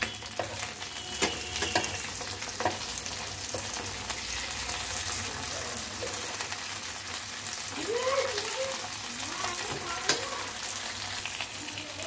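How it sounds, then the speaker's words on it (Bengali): Pabda fish frying in a pan of hot oil for a Bengali mustard-poppy seed curry, a steady close sizzle throughout with occasional clinks and light stirring scrapes. "অপর পিঠটাও আমি 2-3 মিনিট ভেজে নেব।"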